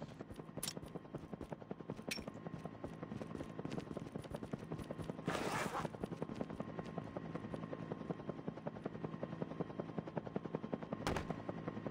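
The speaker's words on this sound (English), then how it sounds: "there's a helicopter here. We can use it." Helicopter in the mobile battle royale game COD Mobile, a steady rotor drone running throughout at moderate level, with a few sharp gunshot-like cracks breaking through, including one near the end.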